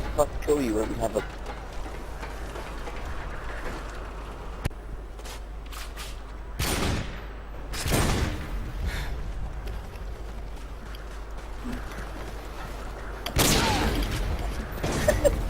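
Sniper rifle quick-scope shots in Call of Duty: Modern Warfare 2, a Barrett and an Intervention, fire as a few sharp, loud bursts spaced across the clip over low game ambience.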